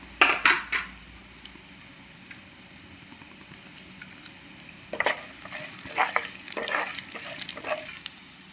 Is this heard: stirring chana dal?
yes